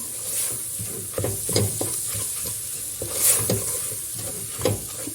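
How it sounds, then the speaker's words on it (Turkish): A spoon scrapes and stirs flour through sautéed vegetables in a pot, a thick mixture, while food sizzles steadily underneath. "Unla beraber de şöyle bir çeviriyorum."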